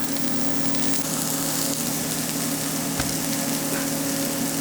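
Braised red cabbage cooking in a pan, heard as a constant, fairly loud sizzle up close with faint steady hiss throughout and no voices.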